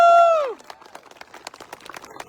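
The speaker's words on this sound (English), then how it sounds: "We have a round of applause for that." A crowd at an outdoor charity walk claps in a brief, scattered round of applause after a loud whistle or shout opens the clip.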